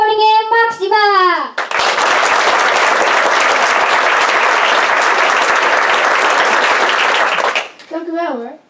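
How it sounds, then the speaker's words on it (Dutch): A school audience at a group 8 primary school musical breaks into sustained, dense applause for several seconds, with voices speaking just before and after. "En hou dat vast, dat applaus"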